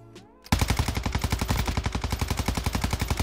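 In a shooter video game, a quick mechanical reload clicks first, then automatic gunfire bursts in: a rapid, evenly spaced stream of loud shots that continues to the end without a break.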